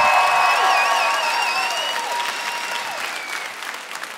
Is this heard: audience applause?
yes